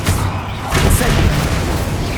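The Incendio fire spell is cast in a Harry Potter video game, releasing a loud, sustained burst of whooshing, booming fire that fills the moment.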